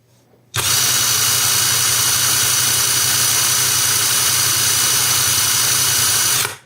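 A DEVETECH cordless impact wrench runs at its second speed. It starts abruptly after a brief quiet moment, then gives a loud, steady, high-pitched whine for about six seconds before cutting off, heard up close with no talking.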